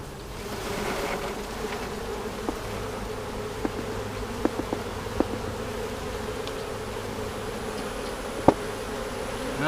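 Continuous buzzing of a honeybee swarm around a hive frame in a barn, a steady dense drone of many bees close by, with a few faint knocks and handling clicks scattered through.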